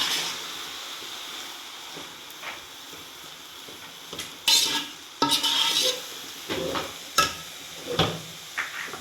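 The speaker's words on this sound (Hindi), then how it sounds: "तो जी अच्छी तरह से चम्मच चलाते जाना है और इनको भून लेना है।" A spoon stirs grated carrots roasting in a pan for carrot halwa, with soft scraping and a faint sizzle, then several sharper metallic scrapes and clinks against the pan toward the end.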